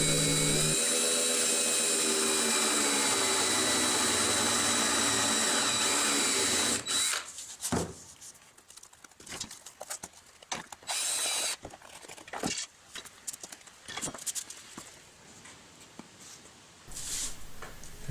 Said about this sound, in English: And then gently drill out a hole